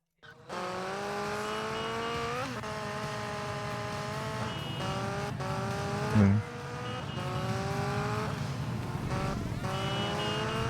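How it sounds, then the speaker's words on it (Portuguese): Motorcycle engine droning steadily in the video game GTA Vice City Stories on PS2, with rising and falling revs, gear shifts and a brief thump midway, continuous and close throughout. "É o tanto de moto que aparece, né? Eu tô de moto."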